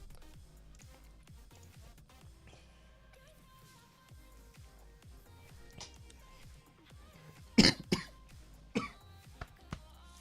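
A man with a lingering cough coughs during a live darts watch-along. After a quiet, ticking stretch, a few sharp coughs come close together near the end.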